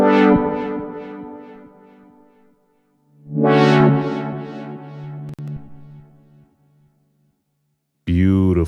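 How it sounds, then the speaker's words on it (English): Synth notes from a Brainworx bx_Oberhausen software synthesizer ring out through delay and reverb, with echoing repeats and a lingering reverb tail that fades, then a fresh burst of sound starts abruptly near the end. "activate the delay and see what that sounds like"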